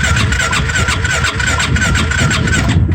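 Rebuilt ATV engine cranking over hard on the starter without catching, a loud continuous churning whir with a rapid pulsing rhythm, close up and heard alone.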